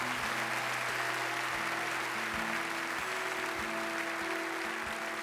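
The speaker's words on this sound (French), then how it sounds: "On peut les applaudir très très fort." Continuous applause from a large audience at a stand-up comedy show, steady and sustained, with a faint hum underneath and no speech.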